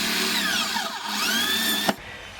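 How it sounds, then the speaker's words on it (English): A power drill spinning a bit slowly into soft metal, a close whining motor tone that sweeps down and back up in pitch, ending with a sharp click as it stops. "We can create a starter with the same drill bit, drilling slow and softly."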